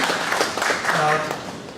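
Audience at a deep learning tech talk gives brief applause, a dense wash of clapping that holds for about two seconds while voices carry on over it.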